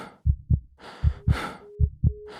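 Video game heartbeat sound effect signalling player health, built with breath variations and a sine wave tone: paired thumping beats repeat about three times, layered with breathy rushes and a thin sustained tone, close and loud.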